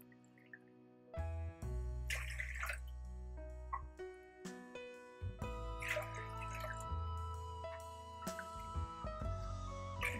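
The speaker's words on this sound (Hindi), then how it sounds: "अब इसमें हम पाँच गुना पानी डाल देते हैं" Water pours into a large pot for rasgulla sugar syrup with close gurgling splashes and ringing, rising tones as the vessel fills, coming in several pours with short pauses.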